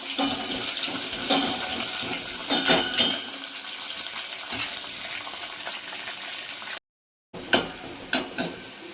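Water poured into a hot tempering of dried red chillies, onion and curry leaves for drumstick dal hisses and bubbles in a loud, rushing sizzle that continues with stirring clatter and a brief gap near the end.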